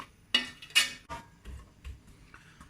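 Onions stirred in a pan over gentle medium heat, with a few sharp metallic clinks of a utensil against the pan followed by softer scraping and knocks, fairly quiet and close.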